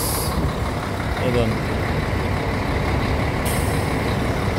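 Buses idle at the CCP terminal with a deep, steady engine rumble, broken by sharp air brake hisses at the very start and again near the end, while someone talks over it.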